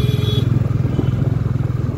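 Small motorbike cruising along a six-lane national highway with a separate bike lane, steady close engine drone with rhythmic low pulsing throughout and rushing wind, no talking.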